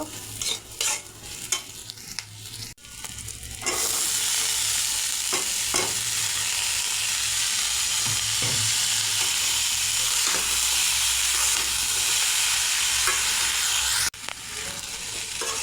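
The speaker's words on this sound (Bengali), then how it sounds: "এখন আমি পুঁই মিটুলি আলু দিয়ে দেব" Loud continuous sizzling and hissing of Malabar spinach stems, potatoes and bean seeds frying with onion and garlic in a pan, with scraping stirring strokes, preceded by a few clattering stirs before the sizzle swells.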